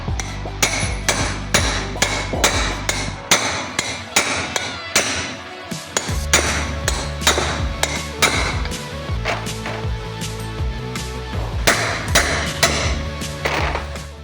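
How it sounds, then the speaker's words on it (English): Repeated sharp metallic hammer blows striking a bent extension used as a punch on a BMW X3 drive shaft universal joint, loud and close, landing in steady bursts with brief pauses between strikes. "We're gonna use this bent extension as a punch and start hammering on the universal joint."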